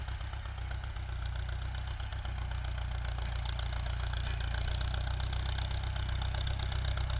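A tractor engine plowing a dry field, running at low revs as a steady, loud, droning rumble that holds evenly throughout with no speech.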